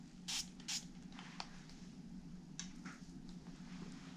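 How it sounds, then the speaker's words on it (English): Two quick hissing bursts of hairspray close by, followed by softer scattered hisses and faint handling sounds. "Respraying that section."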